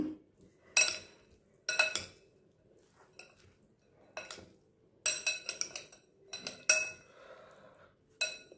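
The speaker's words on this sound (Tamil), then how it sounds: "இப்போது இதை நம்ம கிளறி கொடுத்துடலாம்" Metal spoon clinks and scrapes against a bowl as a fruit and vegetable salad with banana is stirred, a series of sharp, fairly quiet taps and rattles spaced irregularly with pauses between, no talking.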